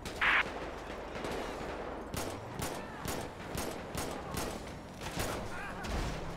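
Rapid bursts of gunfire crackle repeatedly in the video game LSPDFR, sharp shots in uneven clusters over a low background.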